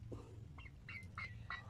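Squawks from one of the last remaining chickens, several short harsh calls over a steady low hum, quiet and fairly close.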